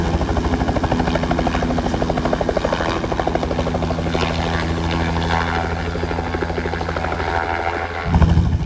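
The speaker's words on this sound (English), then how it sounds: "I decided to do a helicopter flight." A helicopter in flight over Australia's Red Centre near Uluru, heard from on board as a loud, steady rotor thump and engine drone, with a brief shift near the end.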